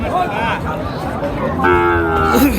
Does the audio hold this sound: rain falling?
no